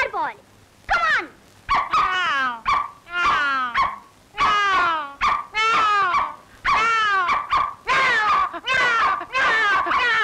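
A dog barks and whimpers close up in a long run of repeated yelps and whines from a comedy film scene, with people talking between some of the calls.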